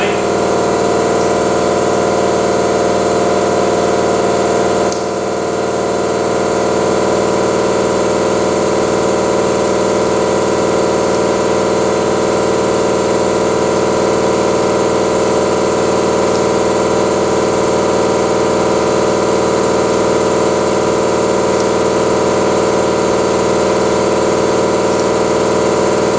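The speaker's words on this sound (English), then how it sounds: "So here I come with my inflator, right?" A portable tire inflator runs steadily, filling the thin space-saver spare tire of a Mini Cooper toward 60 psi; a loud, continuous motor drone with a constant hum and a brief dip near the five-second mark, no talking.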